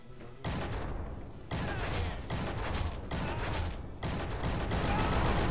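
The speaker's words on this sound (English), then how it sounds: "Fire gun." Gunfire in the video game Shank 2, a series of loud bursts and clattering mechanical impacts in quick succession, close and steady, with no speech over it.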